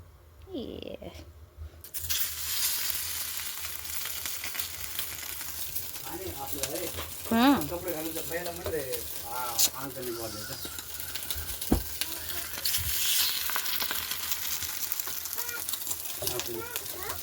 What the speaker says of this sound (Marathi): तर ब्रेड फ्राय झालाय.